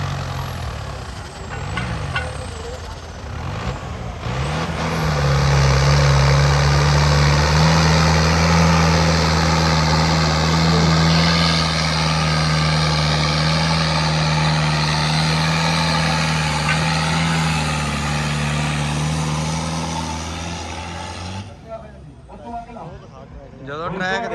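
Tractor engines at a trolley-pulling competition idle with a steady, deep rumble that rises after a few seconds and holds, while people talk nearby.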